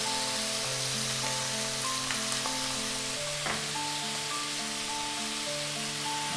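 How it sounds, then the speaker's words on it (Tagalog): Chicken frying in its own rendered fat in a pan as garlic goes in, a steady close sizzle with a few soft clicks and crackles, no voices. "Ngayon naman, mag-a-add na tayo ng garlic"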